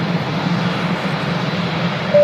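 A Boeing Dreamliner jet taxiing at Manchester Airport, a steady broad engine roar and rumble heard from a distance, constant over the short stretch.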